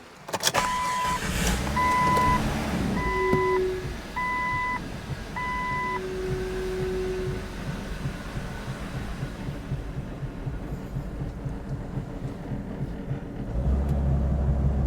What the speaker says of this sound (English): So let me drop the Jeep and drive it out.